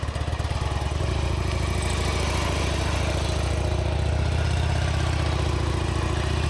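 A motorcycle engine runs steadily through a turn, a loud, close, even drone with a rapid firing pulse that holds without break from start to finish.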